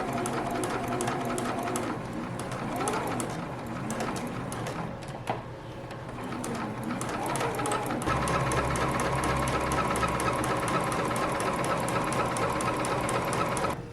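A home sewing machine stitches a sleeve hem on a 90s-style playsuit, a rapid, steady mechanical chatter close up, with a brief pause partway through before the stitching resumes louder.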